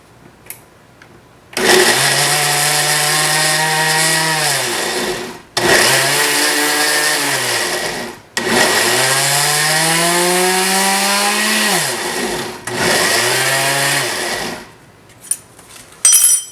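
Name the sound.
blender blending cooked chiles with water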